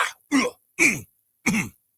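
A run of short, throaty clearing sounds, three or four separate bursts with quiet gaps, close to the microphone and moderately loud.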